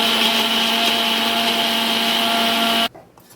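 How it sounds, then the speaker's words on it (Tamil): A mixer grinder whirs loudly and steadily as it grinds cooled onion and tomato masala into a paste for cauliflower butter masala, then cuts off abruptly near the end. "இந்த மாதிரி பேஸ்ட்டாக அரைச்சி எடுத்துக்கோங்க."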